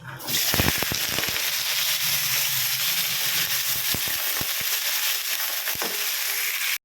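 Potatoes for a poppy-seed dish fry in oil in a wok, giving a loud, steady crackling sizzle throughout with scattered sharp pops and spits, close and with no talk.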